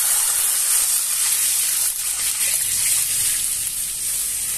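Water poured into a hot pan of fried fenugreek seeds on a gas stove raises a loud, steady, hissing sizzle that fills the whole stretch without letup.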